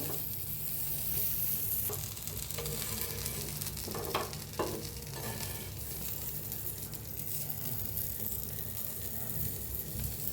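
Brinjal slices shallow-frying in a pan over a low gas flame, giving off a dense, continuous sizzle with a few brief scraping stirs partway through.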